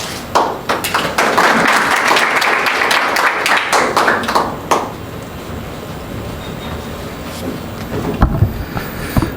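An audience applauds to welcome a presenter at a talk on Somali youth migration. Dense, loud clapping lasts several seconds, then thins out and fades into the quiet room.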